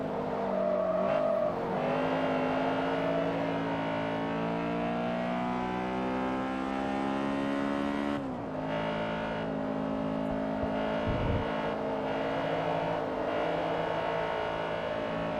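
A Vauxhall front-wheel-drive race car in Forza Motorsport 3 drones steadily at high revs, its engine tone climbing through gears, with a brief dip at a shift partway through.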